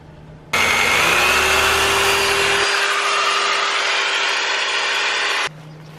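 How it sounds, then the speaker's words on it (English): A power drill bores a hole through the sturdy wall of a Winnebago RV, a loud, steady whining drone starting abruptly and running about five seconds before cutting off, with a lower grinding tone in the first half. "Drilling a hole in my RV."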